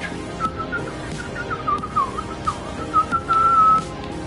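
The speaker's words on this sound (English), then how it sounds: "Sorry for the loud whistling." A person whistles a wavering, sustained tune nearby, fairly loud, with short breaks between phrases and a longer held note at the end.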